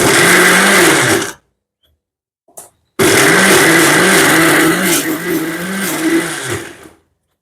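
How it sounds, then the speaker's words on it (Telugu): A kitchen mixer grinder blends tomato chutney in a loud, close whirring run that cuts off, gives a short blip, then starts again and whirs steadily until it stops near the end. "మిక్సీ పడుతున్నా"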